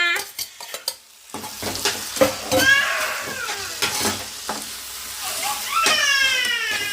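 Prawns stirred into a tomato curry in a pan, with repeated scraping strokes of a spoon against the metal over a low sizzle. The strokes sound close, with occasional short tones in the background.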